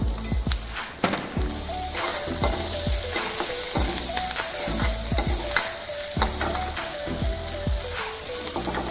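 Chopped ginger, garlic and chili sautéing in a pan, a steady loud sizzle and crackle broken by repeated scraping, clattering stirs of a utensil against the pan.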